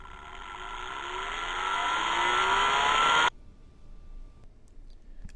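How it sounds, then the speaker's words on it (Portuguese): A small motor whirs and rises steadily in pitch as it spins up, then cuts off abruptly, leaving a faint hum and near silence. The sound is computer-simulated, from coupled multibody and acoustic simulation. "temos o exemplo de um pequeno motor quando colocado em funcionamento"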